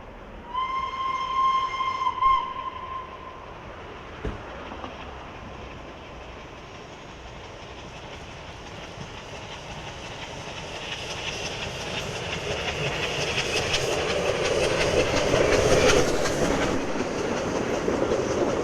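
A Class ALN 501 railcar on the approach to Primo Lavo sounds a loud sustained horn blast, then passes with a swelling rumble and rhythmic wheel clatter that peaks near the end.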